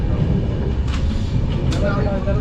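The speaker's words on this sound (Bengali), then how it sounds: "জাস্ট আমরা ট্রেনে উঠে গেছি কালিয়াগঞ্জ থেকে, এখন রওনা দিয়ে দিয়েছি।" A passenger train from Kaliyaganj moves along with a loud, continuous rumble and rattle close by, plus faint squeaks.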